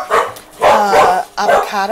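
Dogs bark in a home kitchen during a Walmart grocery haul, a few sharp barks and yips coming in bursts, close by and loud, overlapping with someone talking.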